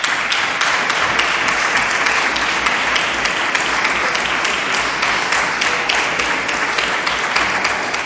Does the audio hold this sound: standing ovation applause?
yes